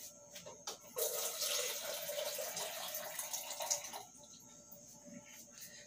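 Tap water pours into a single glass in a kitchen for about three seconds, a close hissing, splashing gush that then cuts off, with no talking.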